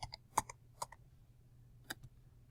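Sparse, light keystrokes on a computer keyboard while a name is entered, a handful of crisp clicks in two brief bursts separated by a pause, close and quiet over a faint low hum.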